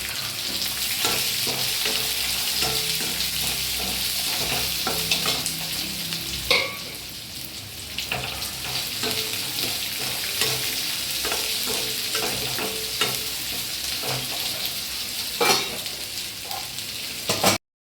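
Onions frying in a pan with salt and a little chili, a constant close sizzle with repeated scraping stirs and occasional utensil knocks, no voices.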